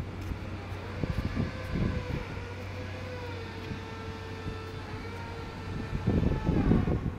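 Strong wind blowing at the coast beside Kê Gà lighthouse, a steady roaring rush with low buffeting gusts on the microphone that swell stronger near the end.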